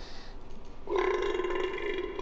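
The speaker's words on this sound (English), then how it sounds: "Just a huge burp." Bacchus, the god of wine in Smite, lets out a single huge, drawn-out burp that swells in after a brief lead-in and rumbles steadily to the end, loud and close with no talking.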